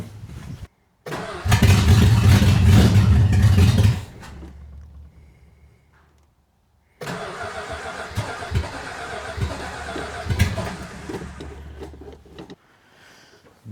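A 1975 Chrysler Mopar 360 V8 in a CJ cranks loudly for a few seconds, falls quiet, then catches and runs roughly with uneven revs before cutting out, heard up close.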